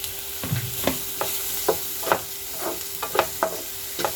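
Masala frying in a pan for a Kerala-style fish cutlet, with a steady sizzling hiss under a series of sharp spoon-scrape clicks as it is stirred, close up and without speech.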